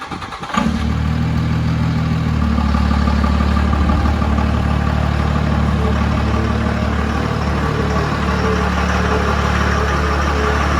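A Cummins twin turbo diesel truck engine starts and settles into a steady loud idle, a deep continuous rumble heard close with no talking.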